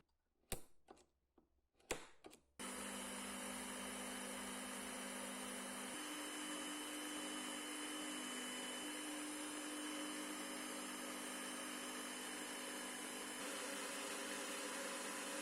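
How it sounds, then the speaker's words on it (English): A drill boring pin holes in the bolster of a handmade black San Mai fighter knife, a few short clicks and taps, then a loud continuous motor whine that runs steadily to the end, with no talking. "I realized that I need to drill holes for the pins first"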